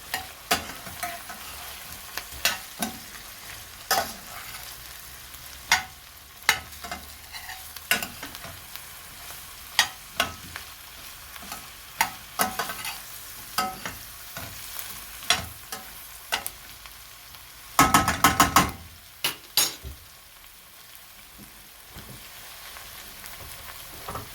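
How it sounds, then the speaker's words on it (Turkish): Eggplant and potato sizzle in a pan for a Turkish türlü vegetable stew, with a spoon stirring through them. Soft crackling frying runs throughout, punctuated by scraping clacks and a brief louder burst of stirring near the end. "Patlıcanımı ekleyeceğim. Ve güzelce karıştıracağız."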